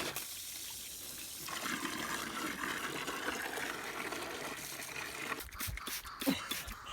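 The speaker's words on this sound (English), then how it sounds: "It's just turning on taps to get the water going." Water gushes through a hose after taps are turned on at an off-grid homestead in Central Portugal, a rushing flow that swells in after a quiet start and then cuts off into a few clunks.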